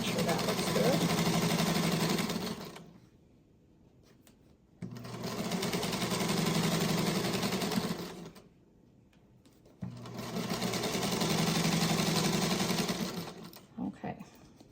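A sewing machine stitches seams on an 8-inch harvest quilt block in three long, steady runs, each a few seconds, separated by quiet pauses, close and fairly loud with no talk.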